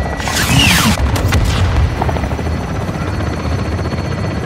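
Artillery strikes hit in the Call of Duty MW2 video game, a close heavy boom with a sweeping whoosh early on, sharp cracks, then a lingering rumble and distant helicopter-like drone.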